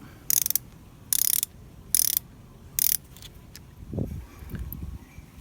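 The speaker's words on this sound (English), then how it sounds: "use a 12mm socket to loosen the banjo bolt" A 12mm socket ratchet works on a banjo bolt of a KTM dirt bike, four crisp clicking bursts in a steady rhythm up close, followed by a few softer knocks and handling sounds.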